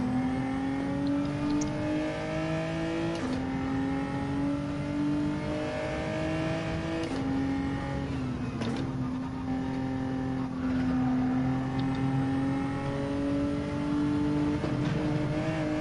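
A Porsche race car engine revs loud and steady, its pitch climbing and dropping through repeated gear changes as it passes close by alongside other racing engines, with no talk.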